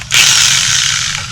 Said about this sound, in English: Got my little buffing wheel set up here on my drill